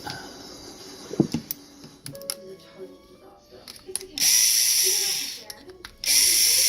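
A power drill whirs in two sustained bursts, driving screws while building an RC car transmission, after scattered clicks and rattles of handling tools nearby.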